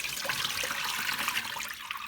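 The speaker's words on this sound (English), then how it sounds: "you just add some cold water, give the rice a quick wash, let it sit for 2 or 3 minutes, pour the water out" Cold water running and splashing while rice is rinsed, a steady close gush of liquid pouring for a couple of seconds with no voices.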